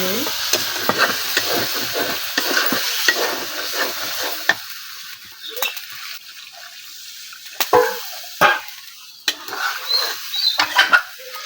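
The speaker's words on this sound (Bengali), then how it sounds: "সুন্দরভাবে মুরগির পাগুলো বসানো হয়ে গেছে এখন দিয়ে দিলাম" Chicken feet frying and being stirred in a pan with a few pieces of potato, giving a loud steady sizzle with scraping stirs and sharp clinks that grow sparser and more broken toward the end, with no talk.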